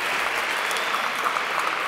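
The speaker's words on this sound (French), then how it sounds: "Elles applaudissent." An audience applauds after a padel match, a brief steady burst of clapping from a small crowd, close and even throughout.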